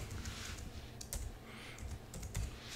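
Typing on a computer keyboard on an Ubuntu desktop, a short run of light, close key taps and clicks over steady background hiss.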